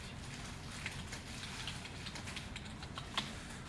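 Quiet, steady clicking of fingers typing on a computer keyboard, with a few slightly sharper keystrokes and no voices.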